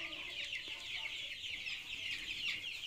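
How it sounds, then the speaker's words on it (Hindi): Seventeen-day-old cross-breed chicks cluck and cheep steadily in a dense, continuous chorus of high calls that overlap throughout. "हमारे चूजा आज ही देखिए तंदुरुस्त हैं, 17 दिन का चूजा"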